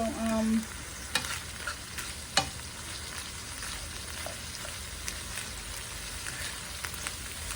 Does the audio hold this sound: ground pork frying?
yes